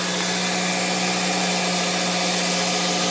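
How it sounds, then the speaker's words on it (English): The engine of a 2000 Toyota Celica GT idles steadily after running for some minutes during coolant bleeding, a constant even drone with a hum and no talk. "I've had this car running for like 10 minutes."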